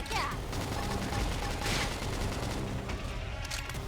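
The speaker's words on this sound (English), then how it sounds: "Gunfire." Gunfire and combat effects from the Xenoblade Chronicles X: Definitive Edition video game, dense and continuous with repeated bursts and sharp hits layered over a steady battle din.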